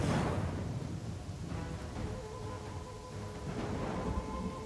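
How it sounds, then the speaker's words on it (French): Heavy rain pours steadily in the fantasy role-playing game Pathfinder: Kingmaker, a dense continuous hiss with low thunder rumbling underneath, loudest at the start and holding through to the end. "Il se met à pleuvoir fort en plus là."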